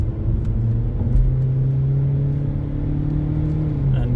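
A car on a driving test route in Peterborough picks up speed once straightened out, its engine a steady low hum rising gradually, with road rumble and faint whirring throughout.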